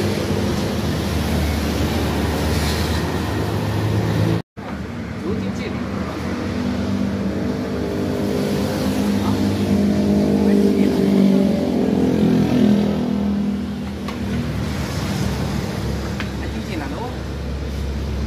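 A Honda Beat carburetor motorcycle with a modified exhaust idles and revs nearby, a deep rumbling engine rising in a sustained swell midway before settling, with a brief dropout early on.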